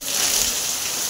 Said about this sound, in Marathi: या भाई पाऊस बघ.